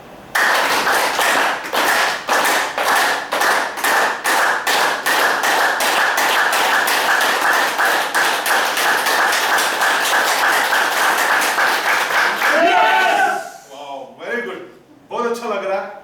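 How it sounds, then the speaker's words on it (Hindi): An audience claps in unison, starting with slow, evenly spaced claps that steadily speed up into a fast, loud, continuous patter, then ends abruptly as a voice follows. "आप लोग हमेशा तालियां बजाते हैं और अभी जो तालियां बजाई"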